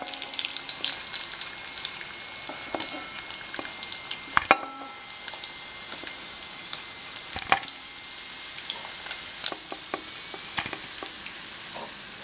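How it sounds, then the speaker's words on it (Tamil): Tuna pieces fry in a pan with a constant crackling sizzle, broken by sharper pops and clatters as the fish is turned or moved. "இதே மாதிரி எல்லா மீனையும் ஃப்ரை பண்ணி எடுத்துக்கலாம்."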